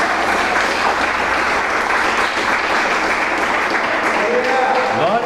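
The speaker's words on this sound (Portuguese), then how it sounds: "Aplauda Ele bem forte, em nome de Jesus." Loud, continuous congregation applause in a church service, a dense wall of clapping that fills the space, with a voice speaking over it.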